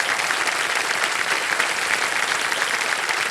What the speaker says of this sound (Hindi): जी हाँ, ताली बज जाए इनके लिए।